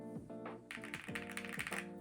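Keystrokes on a MonsGeek M1 V5 keyboard with Akko Piano V3 switches and IXPE and Poron foam dampening, a quick run of deep, rounded clacks typed in steady bursts, close and clear with no voices.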